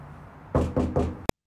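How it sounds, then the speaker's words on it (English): Three knocks on a door, delivered underhand, land in a quick even rhythm, close and fairly loud, followed by a brief sharp tap. "Why can't we just underhand knock?"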